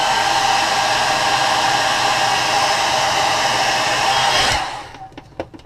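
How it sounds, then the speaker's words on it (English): A handheld hair dryer blows on a freshly painted crankbait lure with a loud, steady whine and rush of air for several seconds, then switches off and leaves faint handling clicks. "Let me dry it with the hairdryer."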